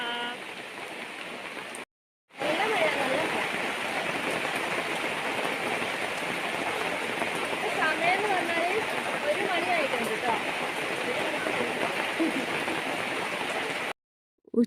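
Heavy rain pours steadily in a dense, constant hiss, loud and unbroken apart from a brief cut early on.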